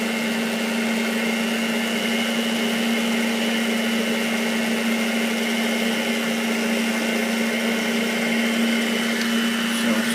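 An electric mixer blends coffee into a rum and raisin ice cream mixture, giving a continuous steady motor whir with an even hum that runs unchanged throughout at close range, with no talking.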